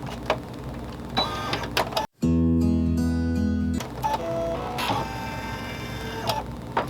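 An embroidery machine sews a ribbon placement stitch for an in-the-hoop wall hanger, its loud steady mechanical whir running for a couple of seconds in the middle amid lighter tapping and clicking before and after.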